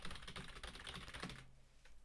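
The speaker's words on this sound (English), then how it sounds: "So here's an example of me just typing on the keyboard." Rapid clatter of typing on a computer keyboard on a desk, picked up by an Audio-Technica AT2020+ USB microphone, steady dense keystrokes for most of the stretch, then quieter near the end.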